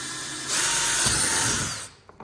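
A power drill whirs steadily for a couple of seconds, close and fairly loud, drilling a hole in a kayak, then stops with a brief rattle.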